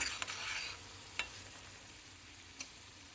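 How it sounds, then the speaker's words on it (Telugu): Palak paneer masala with cumin powder frying in a pan, with a soft sizzle and a few faint scrapes of stirring, quiet and without speech. "ఇదంతా బాగా కలుపుకొని 2 నిమిషాలు వేగనిచ్చి"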